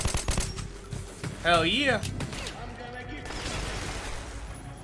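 Bursts of automatic gunfire in Metro 2033 Redux, rapid sharp shots in quick clusters at moderate loudness, heard under a voice and game sounds.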